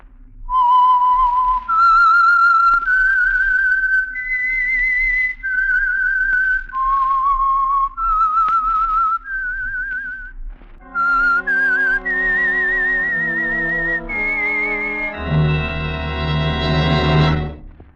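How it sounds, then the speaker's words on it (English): A lone whistler performs the eerie signature theme of the old Signal Oil radio mystery program The Whistler, a clear, loud, sustained melody of held and gliding notes that ends in a swelling orchestral chord. "the signal to listen for is this whistle that identifies the Signal Oil program, The Whistler."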